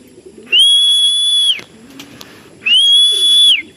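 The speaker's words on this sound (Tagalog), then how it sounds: "Ito na yung mga ibon, mga kalapatid." Racing pigeons arriving back at their loft, with two sustained whistling tones, each about a second long, sliding in and out as the birds pass close overhead, separated by a quieter gap of soft background noise.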